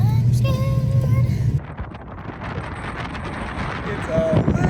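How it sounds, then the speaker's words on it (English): Wind blusters across open desert at a Goblin Valley campsite, a steady rushing roar buffeting the microphone; a person talks briefly over it. "It's a little windy."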